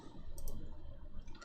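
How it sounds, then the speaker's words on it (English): Computer keyboard clicking at a desk: a few quiet, quick key clicks in a short run against a soft background hum. "Well, that's my keyboard."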